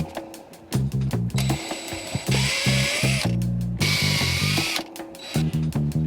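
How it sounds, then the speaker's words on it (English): A power drill whirs in repeated bursts, starting and stopping as it steps up to a 16 millimeter hole in a Winnebago Revel van panel, with loud grinding stretches between brief pauses. "I need a 16 millimeter hole, which is about 5/8 of an inch"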